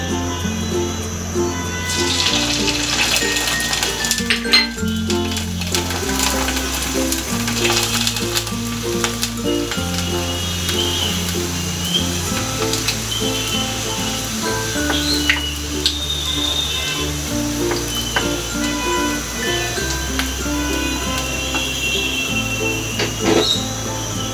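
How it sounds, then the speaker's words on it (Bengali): Sabudana papad frying in hot soybean oil on a gas stove, a loud continuous close sizzle and crackle with bursts as pieces are added, accompanied by background music. "এভাবে আমি এখন সবগুলি পাঁপড় এখন আমি ভেজে নিব"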